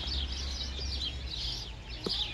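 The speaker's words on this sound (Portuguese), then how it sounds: "Patinhos." Ducklings at the Lagos zoo in Portugal give a steady stream of high, rapid chirps over a low outdoor rumble, with no one talking.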